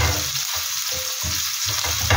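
Onions fry for a coconut fish curry, a steady loud sizzle with faint stirring scrapes throughout, and no talking.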